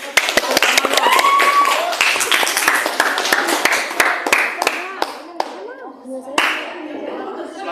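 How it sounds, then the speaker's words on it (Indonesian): A classroom of students claps after a group presentation, sharp uneven hand claps thinning toward the end, with voices chattering underneath. "Tepuk tangannya"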